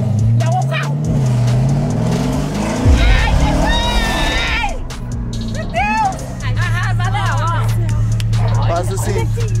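A Corvette accelerates hard at full throttle, its engine note climbing and roaring close by, while people shout and talk excitedly over it throughout.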